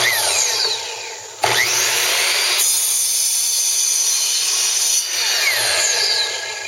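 A Kobalt 10-inch sliding compound miter saw whines steadily and loudly as its blade cuts through a wooden board, with sharp shifts in pitch as the blade bites and the cut progresses, and no talking.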